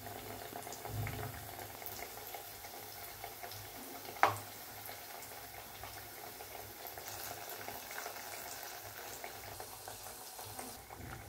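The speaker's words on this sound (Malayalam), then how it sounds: "ഒരു ലോ ടു മീഡിയം ഫ്ലെയിമിൽ നമുക്കിത് ഫ്രൈ ചെയ്തെടുക്കാം." Banana fritters frying in oil over a low to medium flame make a steady, soft bubbling sizzle throughout, with one sharp tap partway through, close and fairly quiet.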